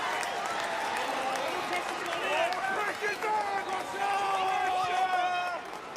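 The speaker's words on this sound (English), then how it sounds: "you can hear the crowd now" A crowd roars steadily through a football stadium during an Australia Cup match between Sydney FC and Central Coast Mariners, a broad wash of noise under a commentator's continuous voice.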